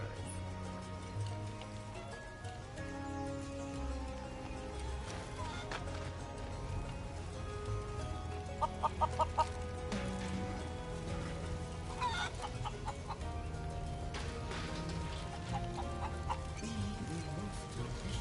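Hens clucking in Final Fantasy VII Rebirth, a cluster of short clucks standing out briefly over a steady bed of game music and ambience.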